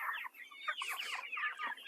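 Meat chickens cluck and chatter steadily in a close, busy flock on a farm, overlapping calls filling the whole stretch without pause.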